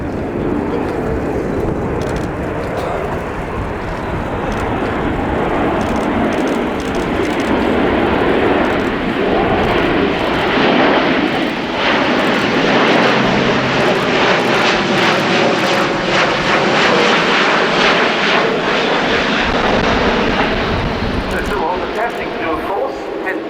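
An Airbus A400M military transport, test aircraft MSN6, flies at the Royal International Air Tattoo airshow, its turboprop engines a loud continuous roar throughout with a shifting drone, while a commentator talks over the PA.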